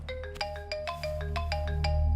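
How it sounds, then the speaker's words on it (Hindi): A phone ringtone goes off at night, a bright electronic melody of repeated short tonal notes over a low hum, loud and close with no talk. "इतनी रात को फोन उठाओ"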